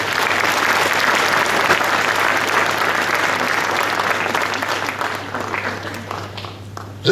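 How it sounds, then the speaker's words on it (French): An audience at a mayor's New Year address in a French town hall gives sustained applause for hardworking staff, dense steady clapping that holds for several seconds before thinning out. "je voudrais que vous les applaudissiez parce qu'ils font un travail colossal."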